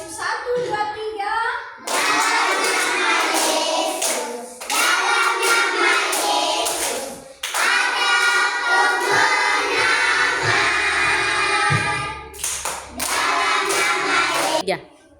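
Children sing together and clap their hands in rhythm in a classroom, a loud, steady run of claps under the group singing with a few short pauses between phrases.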